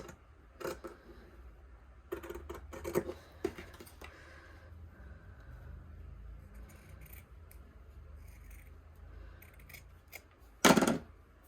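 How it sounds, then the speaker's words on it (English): Scissors trim stocking fabric in short bursts of crisp snipping, close up, with pauses between cuts and one louder slicing cut near the end; no talk. "So I'll just kind of eyeball this part and trim all this."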